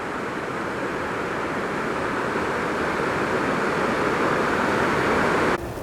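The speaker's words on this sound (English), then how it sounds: "the water is flowing to the left there" Water from a river near a waterfall rushes in a dense, steady roar that stays loud and even throughout, cutting off abruptly near the end.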